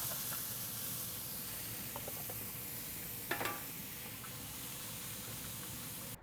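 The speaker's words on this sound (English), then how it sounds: "We're gonna start out with some duck fat that we can fry the potatoes in." Frozen store-bought potatoes O'Brien fry in duck fat with a steady, even sizzle and hiss throughout, with a brief scrape or stir partway through.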